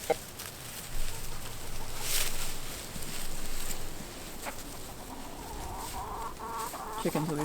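Chickens cluck steadily at moderate distance in a spring garden setting, with a few sharper squawks and a busier burst of clucking near the end, no talk over them.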